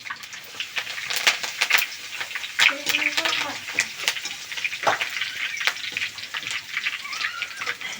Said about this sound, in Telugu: ఇప్పుడు ఇదే నూనెలో కొంచెము కరివేపాకు వేయించుకున్నాం